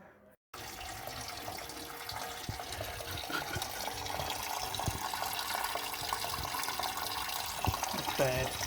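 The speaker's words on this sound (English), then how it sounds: "we're going to try to drain this tank" Fluid pours steadily from the tank of an old car, a continuous close splashing stream that holds on without letup.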